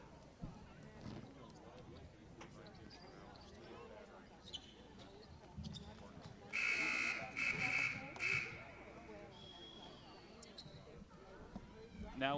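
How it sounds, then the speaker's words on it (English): A basketball scoreboard buzzer blares in a few quick repeated bursts during a high school game between the Round Valley Elks and Pima, loud above the gym's background chatter and commentary. "was the scorekeeper trying to make music with the buzzer?"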